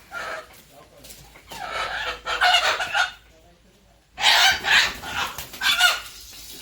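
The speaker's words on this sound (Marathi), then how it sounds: "या 2 कोंबड्या." Chickens at a friend's farmhouse clucking and squawking in loud, close bursts separated by quieter gaps, with people talking in between.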